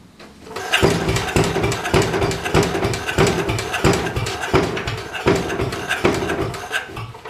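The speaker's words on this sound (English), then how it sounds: "gonna fire it up here, see how it runs" A Sears Handiman walk-behind motor fires up and runs, chugging loudly with a steady rapid pulse of firing strokes close by, with no voices.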